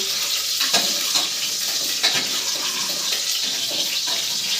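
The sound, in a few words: onions frying in a pan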